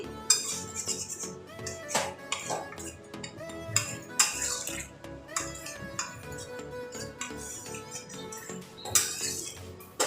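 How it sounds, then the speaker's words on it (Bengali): A spoon stirs water into a potato and cauliflower curry in a metal pot, making repeated clinks and scrapes at an uneven rhythm, with a tonal background layer throughout. "জল দিই জলটা দিয়ে ভালো করে মিশিয়ে দিচ্ছি"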